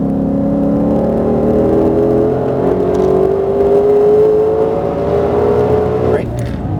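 A Ford GT sports car driven on a race track, its engine holding a steady loud droning roar that slowly climbs in pitch as it accelerates, heard close from inside the car, with a brief shift near the end.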